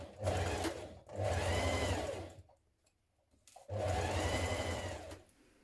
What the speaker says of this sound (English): you're going to stitch all the way down to the bottom of the skirt